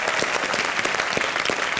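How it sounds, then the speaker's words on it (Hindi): Loud, dense applause from a studio audience on a comedy show, continuous clapping filling the room without any voices over it. "जोरदार तालियां इनके लिए।"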